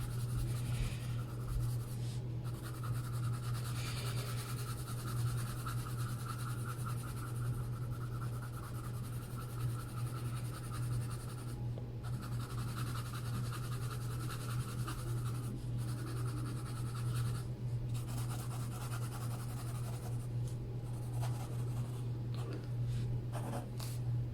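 Colored pencil rubbed over paper in steady circular motions to build saturated layers, a continuous soft scratching texture that runs the whole time under a constant low hum, with no talking.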